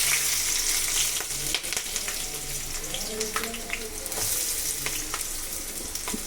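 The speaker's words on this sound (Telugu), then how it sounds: "ఇప్పుడు ఉల్లిపాయలు కూడా వేసేసుకుందాం." Onions sizzling in hot oil in a pan for gogura chicken, a continuous loud frying hiss with clinks of stirring, while a voice talks faintly in the background.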